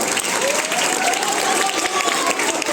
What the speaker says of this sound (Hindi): जोरदार ताली से उनका स्वागत